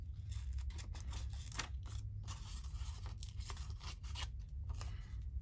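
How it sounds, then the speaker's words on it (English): Small scissors snip through paper ephemera at a crafting table, a rapid string of close, crisp cuts with slight rustling between them and no talk over it. "So I'll use these scissors for these more intricate bits"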